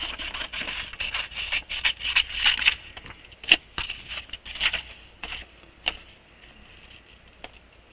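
Paper being fussy-cut with scissors, a close series of light snips, ticks and scrapes that come in an uneven rhythm and thin out toward the end.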